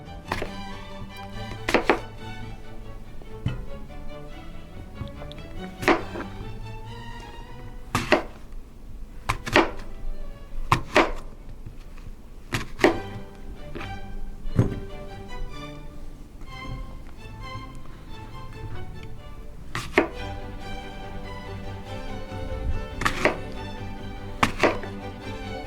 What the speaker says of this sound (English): So let's slice a few apples.